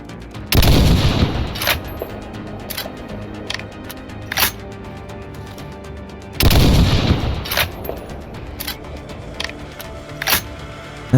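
Loud gunshots from a very powerful, hard-to-use weapon in the Stalker Zona mod of the S.T.A.L.K.E.R. game: two heavy booming blasts several seconds apart, each with a long rumbling tail, separated by sharper clicks and mechanical clacks.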